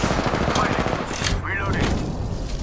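Gunfire from the video game Apex Legends, a dense, continuous burst of shots throughout with a rapid crackling texture, loud and close, mixed with other game effects.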